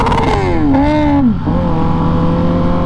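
A Kawasaki ZX-10R sport bike engine revs close by on a Sunday ride, pitch climbing and dipping through quick throttle changes before settling into a steady loud drone.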